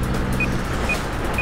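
Short electronic beeps repeat at a steady interval, about three in quick succession, sounding over a dense low engine and traffic rumble while driving in the video game Wheelman.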